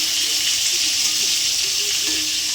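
Pieces of pointed gourd (potol) fry in hot oil in a pan, giving a constant loud hissing sizzle throughout with no talk.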